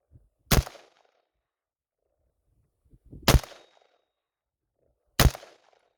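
Three loud, sharp rifle shots from a Desert Tech MDRX at targets around 50 yards, evenly spaced a few seconds apart, each with a short decaying tail and near silence between.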